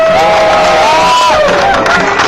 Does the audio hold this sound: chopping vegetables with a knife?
no